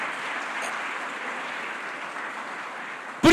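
An audience at a Portuguese-language church gathering claps steadily, a soft even wash of applause heard from some distance, broken by a short loud burst at the very end.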